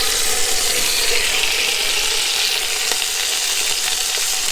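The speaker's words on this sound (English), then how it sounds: "Next I'm going to turn it on the sides to make sure we get all parts of the chicken brown." Chicken browns in hot oil in a deep pot, a loud, steady sizzle and crackle that fills the whole moment with no talking over it.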